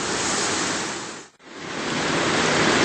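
River water rushing past in the wild, a loud, continuous broadband flow heard close up, broken by one short dip before resuming.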